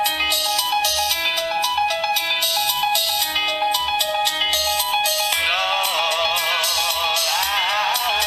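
Music plays loudly through the stereo side speakers of a Nokia N95 phone at high volume. It runs dense and continuous, with a shift in the melody partway through and no talking over it.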